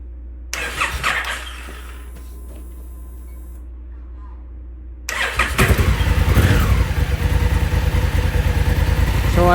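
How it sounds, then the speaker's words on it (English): A 2018 Honda Africa Twin motorcycle engine cranks and catches partway through, then settles into a steady, loud running idle close by after a quieter stretch of faint background noise. "So we'll run the bike a little bit again and then check this radiator again."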